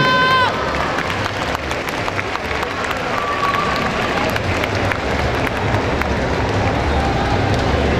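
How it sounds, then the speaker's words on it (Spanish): A crowd at a festival queen's coronation in Zacapoaxtla applauds in a continuous, dense roar of clapping mixed with cheering, with a brief tonal sound near the start. "esos aplausos que se escuche de todos los presentes"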